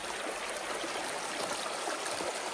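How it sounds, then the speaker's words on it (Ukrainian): A small mountain stream in the Carpathians runs over rock in a channel carved into the stone, giving a steady, continuous rushing and trickling wash close by with no voices. "І річечка така."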